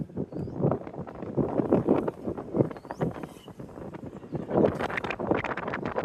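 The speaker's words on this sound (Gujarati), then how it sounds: "ઠંડો પવન" Cold mountain wind buffets the microphone in uneven, gusty rumbles, rising and falling close by with no talk over it.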